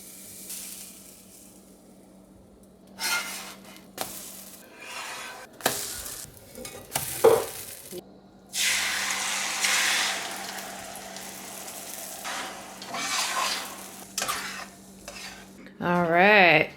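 Cast iron pans clatter and stir in bursts, then a steady sizzling hiss of pancake batter frying runs through the middle and late stretches, with kitchen clinks throughout.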